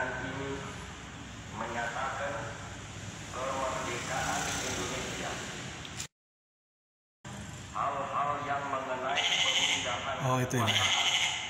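Goat bleating from a recording played at the national press monument in Solo, linked to the historic "goat radio" broadcasting set, with several wavering bleats over roughly eleven seconds, a short silent gap midway and people talking underneath.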